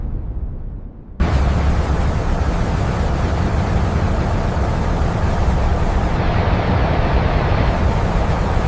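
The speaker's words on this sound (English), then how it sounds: "Limestone and clay are blasted from formations millions of years old." Limestone and clay are blasted from a mountain quarry, a sudden loud roaring blast that kicks in abruptly and continues as a dense, sustained rumble of debris and noise to the end.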